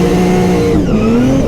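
A 700HP Nissan 350z engine howls loud and close on throttle while drifting, with a steady strained tone that dips briefly and climbs again over tyre noise.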